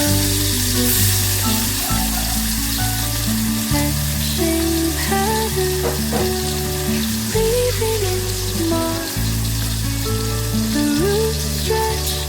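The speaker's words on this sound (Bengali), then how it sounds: "মাছটা তো ভাজতেই হবে একটু। এই দেখো মাছ দিয়ে দিলাম, চিংড়ি মাছগুলো দিয়ে দিলাম।" Prawns sizzle steadily in a hot frying pan, a constant hissing crackle sitting under loud background music with a repeating melody throughout.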